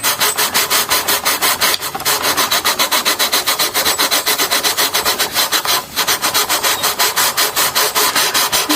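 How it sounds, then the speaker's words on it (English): Steady rhythmic rubbing and rasping along the middle of the neck of a Gibson Baldwin Signature Les Paul copy guitar during a setup, regular back-and-forth strokes, close and loud with no talking. "So now I'm in the sort of middle part of the neck. Same old process, just rubbing away."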